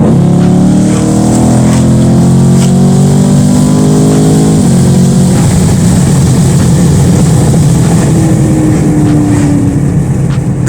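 The engine of a 2020 Chevy Camaro 2SS accelerates hard and loud from inside the car, its roar rising in pitch, then dropping at a shift and climbing again, with constant road and wind noise.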